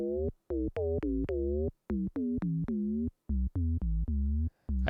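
A buzzy synthesizer wave folder tone, FM-like, pulsing in short rhythmic bursts, each note bright and metallic with gliding pitch, played alone with brief gaps between.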